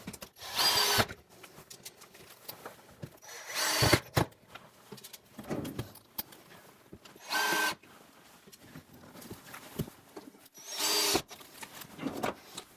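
A power drill drives screws while a Fhiaba appliance is fitted into its cabinet niche, giving four or five short high whirring bursts separated by quieter handling and rustling, up close and with no talk.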